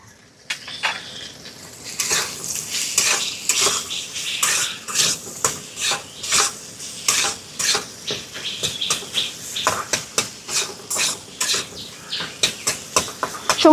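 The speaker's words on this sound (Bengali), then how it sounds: "সমস্ত কিছু দিয়ে আলুটাকে এরকমভাবে 2-4 মিনিট মতন একটু নেড়ে নেব, যাতে একটু ভালো মতন কষানো হয়ে যায়।" Boiled potato pieces with spices and salt are stirred in a pan, a spatula scraping and clinking against the metal in a quick repeating rhythm over a low sizzle.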